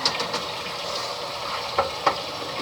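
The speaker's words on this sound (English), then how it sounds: "all you have to do now is just mix it up, and we are good. So I'm just gonna mix it up." Spaghetti being stirred and tossed with tongs in a hot pan, a steady soft sizzle with a few brief scraping clicks near the end, close and alone.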